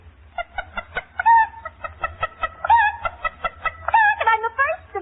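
A human voice imitates a clucking hen, a rapid run of short, rhythmic clucks broken by a few drawn-out squawks, close and loud, in an old radio barn-dance show.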